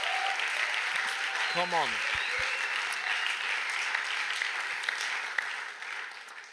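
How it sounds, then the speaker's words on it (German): A church congregation claps steadily throughout, broad and continuous, with a brief shout and a short spoken German phrase near the start. "gebt ihm einen Applaus."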